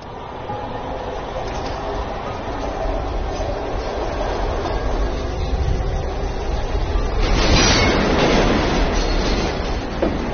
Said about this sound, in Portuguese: o metrô está com problemas e não vai parar entre as ruas 34 e 14.